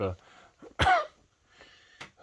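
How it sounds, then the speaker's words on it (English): One sharp, close cough bursts out after a brief vocal sound, followed by quiet breathing and a smaller throat noise near the end. "Trying not to cough"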